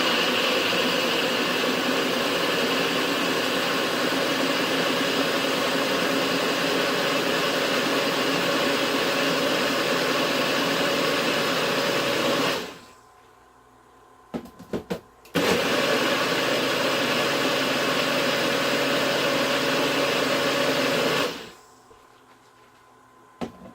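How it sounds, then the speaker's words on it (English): A blender whirs loudly as it purees cashews and water for a vegan cheese sauce, running steadily for about twelve seconds, stopping briefly, then blending again before cutting off, close and without talk. "we're going to blend that until it's smooth"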